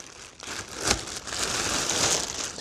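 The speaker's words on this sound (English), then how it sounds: "So we're going to remove all of the plastic wrapping." Plastic wrapping being pulled off a new ELMO PX series document camera gives close, continuous crinkling and rustling, with one louder crackle near the start.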